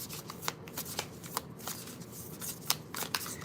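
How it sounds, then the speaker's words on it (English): Tarot cards being shuffled by hand: a run of crisp, papery riffles and snaps, close and fairly quiet, with no talking. "I'm going to shuffle the tarot and get a tarot message for this reading"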